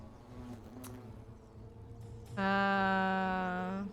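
Hornets buzz loudly inside a nest in the video game The Forgotten City, a dense, steady drone that swells in suddenly and holds close and loud to the end.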